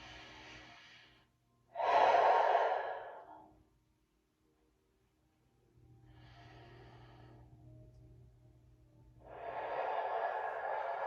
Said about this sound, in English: inhale deeply through the nose and out through the mouth